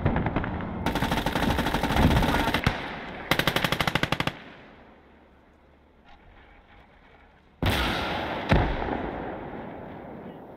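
PTRS anti-tank rifle fire in the Gates of Hell Ostfront war game, heard as loud, dense bursts of rapid battlefield gunfire with sharp cracks, broken by a quieter gap before another heavy burst.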